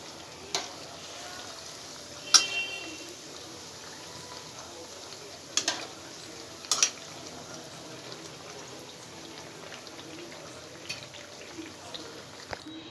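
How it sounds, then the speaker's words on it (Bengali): Suji pitha dough balls fry in hot oil with a soft steady sizzle, broken by a few sharp clinks and stirring knocks, quiet and close with no talk over it. "তো আমি এইভাবেই সবগুলো ভেজে নেব।"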